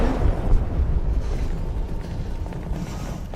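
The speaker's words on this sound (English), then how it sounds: "They detonated an explosive in the hold." An explosive detonates in a ship's hold in Detroit: Become Human, heard as a loud, sustained, low booming rumble with no break and no voices.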